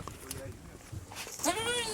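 A goat lets out a wavering bleat near the end, preceded by quiet rustling and a few faint shuffles.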